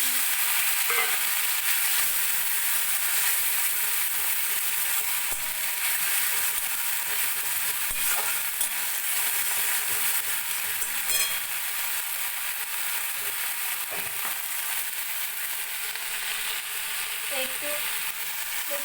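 Fish fries in a pan with a constant, loud, close sizzle that goes on throughout, with faint scattered clicks underneath.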